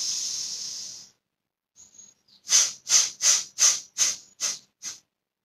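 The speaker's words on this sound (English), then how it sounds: "Again, inhale deeply, hold the breath" Meditation breathing: a long, steady, close breath hisses for about a second, then after a pause comes a run of seven short, forceful puffs of breath in quick rhythm.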